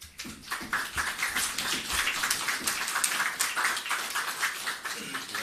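An audience applauds at a Jamaican agriculture ministry event on hurricane recovery, a dense, steady wash of many hands clapping close by, holding strong throughout with no speech over it.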